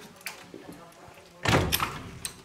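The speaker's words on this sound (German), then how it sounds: "Tür zu" A door is shut inside a two-room rental apartment in Nürtingen, giving a short muffled thunk followed by a louder, fuller closing thud against faint room noise, with no speech.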